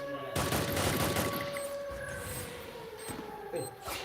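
Gunfire bursts in the battle royale shooter Free Fire, a dense rattling volley up front that thins into scattered shots over a steady game tone, with a siren-like wail and voices behind.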